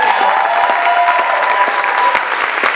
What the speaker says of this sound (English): One more round of applause for the LowDown.